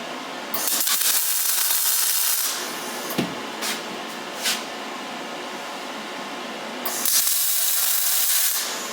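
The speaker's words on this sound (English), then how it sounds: "I'll put a spot weld here and here" Spot welding on a steel mono rail staircase: two long, loud bursts of crackling hiss, separated by a quieter stretch with a few short taps and knocks.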